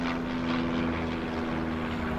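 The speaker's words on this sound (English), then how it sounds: "airplane above us" A propeller airplane drones steadily overhead outdoors, a continuous loud engine hum with no voices.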